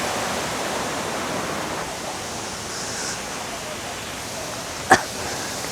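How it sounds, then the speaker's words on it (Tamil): Water pours steadily over the Ban Gioc Waterfalls on the Vietnam border, a soft, even broadband rush heard from a distance with no talking, broken only by one brief sharp tap near the end. "அங்கே ஊற்றுற அந்த அருவிலாம் அங்கே வந்துட்டுருக்கு தண்ணி."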